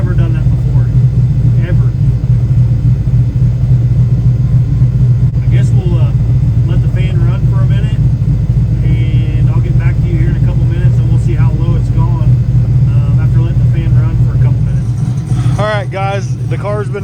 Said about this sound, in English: It's practically dropped 20 degrees in about less than 3 minutes of just sitting there idling.